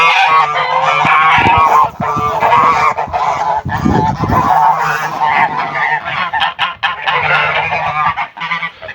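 Mammoth geese honk loudly and repeatedly at close range, a dense overlapping flock chorus with harsh calls that barely let up.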